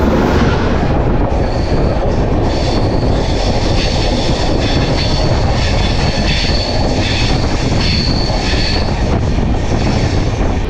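A loud, continuous rumble of the Saraighat Express, Howrah to Guwahati, with steady rattling and a high whine, sounding close and unbroken throughout.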